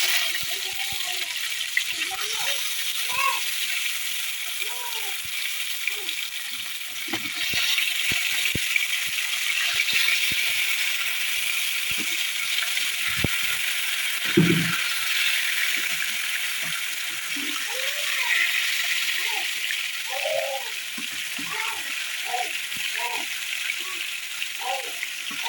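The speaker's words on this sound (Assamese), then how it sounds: "তেলখিনি পূৰা গৰম হৈ গ'ল। এতিয়া ইয়াতে মাছখিনি দি দিম এপিচ এপিচকৈ ভালকৈ।" Fish pieces frying in hot oil in a pan, a constant bright sizzle throughout with scattered clinks and a brief thump partway through.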